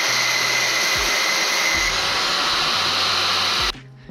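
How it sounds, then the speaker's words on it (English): A power tool cuts a too-long bolt short while installing ditch lights on a Toyota Tacoma, a loud steady whine with low rhythmic thumps running close by for most of the span, then cutting off abruptly near the end. "I have to basically cut the bolt shorter because it's too long"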